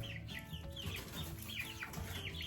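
Dark brown egg-laying chickens on a homestead cluck in short, irregular bursts, giving soft, close, rounded calls scattered through a quiet yard with faint background noise and no talking.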